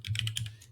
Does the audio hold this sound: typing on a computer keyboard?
yes